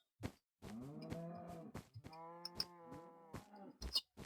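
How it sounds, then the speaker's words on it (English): Cows in a snowy game biome let out long, drawn-out moos, two sustained calls close together, broken by sharp clicking footstep-like taps. "Cows chilling it up in the snow."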